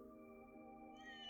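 Cat meowing in the video game Trails Through Daybreak II, one drawn-out tonal meow rising at the end over a steady, quiet musical drone, with no talk.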